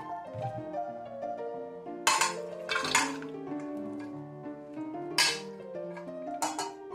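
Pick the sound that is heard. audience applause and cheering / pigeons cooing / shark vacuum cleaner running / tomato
tomato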